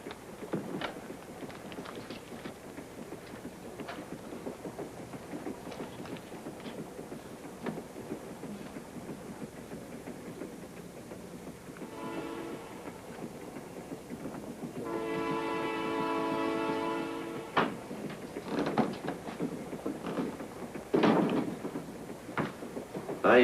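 A train rumbles and clatters along steadily, with a horn sounding twice, the second blast longer and louder, amid rattling car noise.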